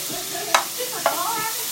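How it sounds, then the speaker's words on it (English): Margarine sizzles in a hot pan with a steady hiss, broken by two brief scraping stirs close by. "Now, see it sizzling?"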